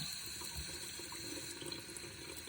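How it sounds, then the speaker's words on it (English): Water runs steadily from a single-handle bathroom faucet in an old bathroom under repair, a constant close splashing stream into the sink with no voices. "this is the kind of faucet you want in your bathroom"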